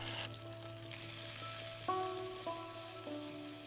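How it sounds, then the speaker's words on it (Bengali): Spice paste fries in mustard oil with cumin and dried red chilli in a wok for a Bengali katla fish curry, a constant close sizzle with a sharp splatter burst as the paste goes in. "এইবার কড়াইতে পরিমাণ মতন সর্ষের তেল দিয়ে তাতে জিরে ও শুকনো লঙ্কা ফোড়ন দিয়ে যে মশলার পেস্টটা আমি তৈরি করেছিলাম সেটা এখানে দিয়ে দেব"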